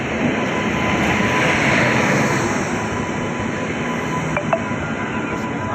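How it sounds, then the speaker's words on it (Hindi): The Paschim Superfast Express of Indian Railways makes a steady, loud, broad rumble as it runs, holding constant throughout with no talking. "हाँ, ये पश्चिम एक्सप्रेस ही तो है"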